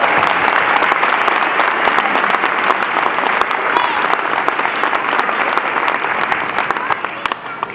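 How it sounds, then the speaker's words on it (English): A school audience gives a full, steady round of applause for children at a second-grade music concert, loud and continuous with no break. "So let's give a big round of applause for our kids."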